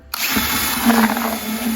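A power drill mixing drywall compound with water whirs loudly and steadily from a sudden start, its motor humming close up without a break.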